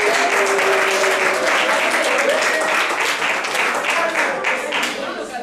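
Audience applauding steadily at an association's nutrition-literacy prize ceremony in Bafoussam, a dense, continuous wash of clapping that stays loud throughout and eases off slightly toward the end.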